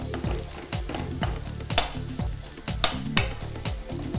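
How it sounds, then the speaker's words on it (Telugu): Onions and green chillies fry in a pan for cumin potatoes, with a steady close sizzle and repeated stirring scrapes of a utensil against the pan. "సో కారం అనేది యాడ్ చేయట్లేదు మనకి గ్రీన్ చిల్లీస్తోనే స్పైసీనెస్ వచ్చేస్తుంది ఆనియన్స్ ఫ్రై అయిపోయాయి"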